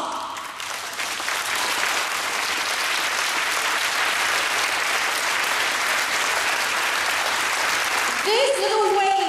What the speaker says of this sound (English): Can you give these heroes a big round of applause?